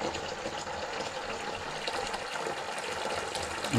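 Red wine lees run from the tap of a stainless steel vat during racking, a steady, close gushing pour of liquid that holds level and unbroken throughout.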